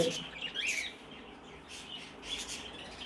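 Caged pet birds at a home bird sale give faint, short chirps and tweets in a few scattered bursts against quiet room noise.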